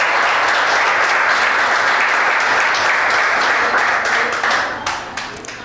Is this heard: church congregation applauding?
yes